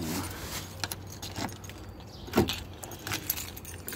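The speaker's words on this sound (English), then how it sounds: "Okay, so here's the two keys." Camaro car keys jangle and clink close by in a few short bursts, quiet and intermittent against a soft background.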